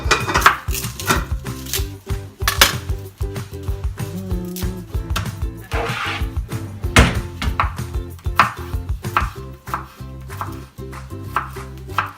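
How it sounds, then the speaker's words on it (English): Garlic being peeled and handled on a kitchen counter while cooking a meal-kit recipe, with repeated close, sharp clicking and tapping knocks against a board in an irregular rhythm, and no talk. "So we're just peeling the garlic."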